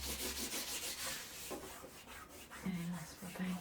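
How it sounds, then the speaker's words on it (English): Design tape is rubbed down onto a surface with steady, scratchy back-and-forth friction strokes, close and fairly quiet, with a brief murmur of voice near the end. "Lots of rubbing."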